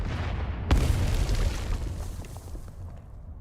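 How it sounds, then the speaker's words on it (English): A loud explosion in the Arknights video game, a sudden broadband blast that bursts in and then rumbles and crackles steadily for a few seconds with no talk over it. "Explosion from the forest?"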